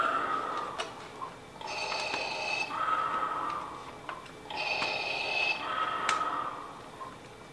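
A Star Wars helmet plays its mechanical breathing effect, two slow hissing inhale-exhale cycles with a steady rhythm, moderately close and alone against faint background hum.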